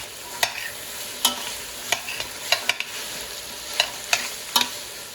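Trofie pasta with vegetables being stirred in a pan on a switched-off burner, giving about ten sharp scraping, clacking strokes spread unevenly over a faint background sizzle, close and fairly loud, with no voices.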